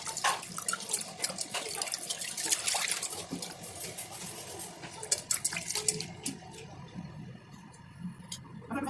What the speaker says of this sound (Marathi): तीन ते 4 पाण्याने या डाळीला चांगल्या प्रकारे धुवून घ्या